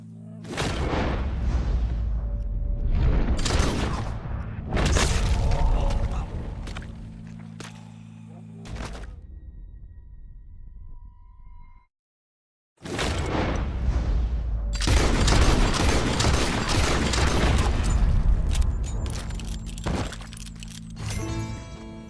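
Gunfire in a Red Dead Redemption 2 animal encounter: loud, dense volleys of booming shots and cracks fill two long stretches, broken by a short quiet pause in the middle.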